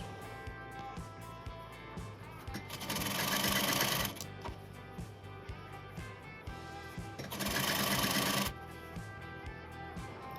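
A sewing machine stitches the placket strip of a child's kurta, running in two steady, louder bursts of a few seconds each over a quieter continuous background hum, with no talking.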